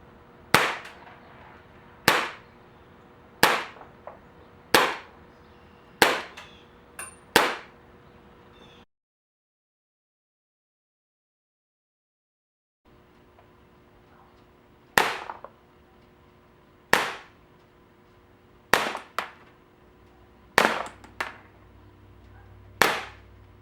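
Sharp cracks from an Umarex Legends Walther PPK/S blowback air pistol, six shots fired at a steady pace, then a silent gap, then another run of evenly spaced pops, each with a quick snap and short metallic clack.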